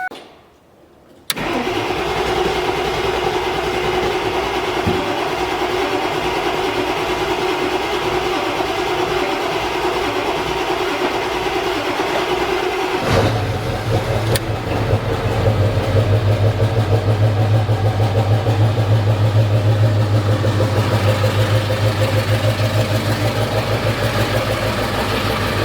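A Ford 7.3 Powerstroke diesel engine, newly repaired after leaks, cranks steadily for about twelve seconds after a brief silence, then catches and settles into a loud, even diesel idle close by.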